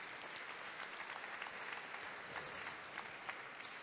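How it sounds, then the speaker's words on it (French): Faint, steady applause from an audience at the Pierres d'Or 2016 ceremony honoring five nominees in the investors category, a continuous distant patter of clapping. "On les applaudit vraiment tous les 5"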